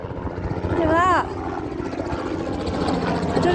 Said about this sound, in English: That's a very low helicopter flying overhead.